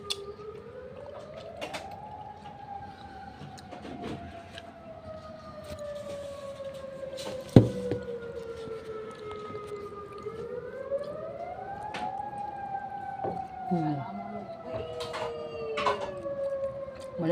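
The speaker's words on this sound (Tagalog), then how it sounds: "Malakas ang siren." A loud civil defense siren wails on its own, its pitch rising, holding and falling in slow sweeping cycles across the whole stretch with no talk over it.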